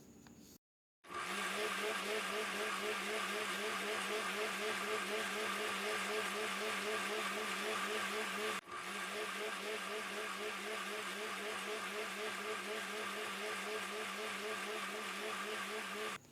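Electric hand mixer beating 300 grams of butter for brownie batter, a steady loud whirring drone with a pulsing wobble that runs almost continuously after a brief start, with one short dip midway.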